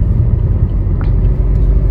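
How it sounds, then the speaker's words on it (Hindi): A Maruti Brezza's engine pulls steadily uphill in third gear on a mountain road between Delhi and Shimla, a loud, continuous low rumble heard from inside the car with no talking. "और गाड़ी जो है अपनी लगातार तब से तीसरे ही गियर पे चल रही है।"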